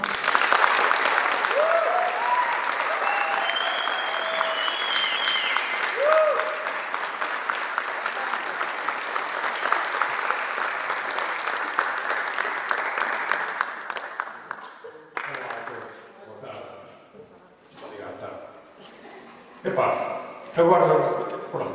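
Audience applause at a book presentation event, a sustained dense round of clapping for about fifteen seconds that thins out and gives way to a speaking voice and scattered sounds.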